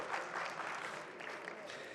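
Audience applauding an award winner at an international imams' and preachers' gathering, a soft, even patter of many hands clapping at a distance for about two seconds.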